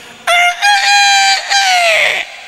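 A storyteller at a children's Maulid fair event mimics a rooster's crow with his voice, one loud drawn-out cock-a-doodle-doo call rising and falling over about two seconds, heard alone and close up.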